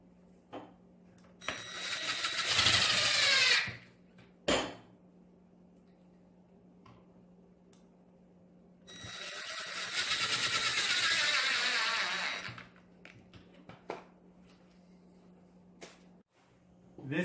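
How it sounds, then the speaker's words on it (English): Power driver running screws into wood without pilot holes, two long whirring bursts with faint clicks and taps between them, close and fairly loud. "you will need to apply some pressure when screwing in your screws"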